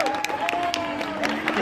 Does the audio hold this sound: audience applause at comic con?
yes